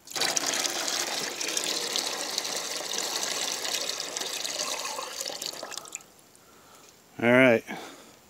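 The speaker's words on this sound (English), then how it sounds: "Got some water to put in the pan." Water is poured into a pan beneath a grill, a steady close splashing gush lasting about six seconds before stopping, followed by a short voice.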